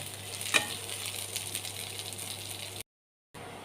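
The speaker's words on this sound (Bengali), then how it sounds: "পেঁয়াজটা খুব বেশি ভাজবো না, হালকা নাড়াচাড়া করব।" Onion frying and being stirred in a pan, a steady close sizzle with a sharp clink near the start, then a brief silent break before the frying resumes.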